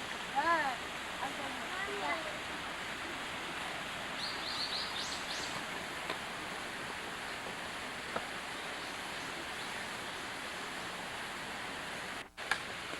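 A waterfall pours in a constant hiss and rumble, with a few bird chirps near the start and people talking briefly over the steady roar.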